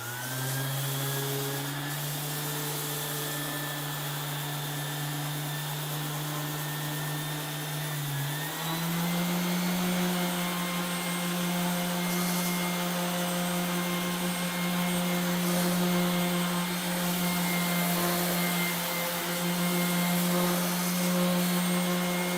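A Bosch ROS65VC-5 random orbital sander runs with a shop vac attached, giving a steady loud whirring hum with a whining tone that shifts pitch slightly partway through, continuous with no talk.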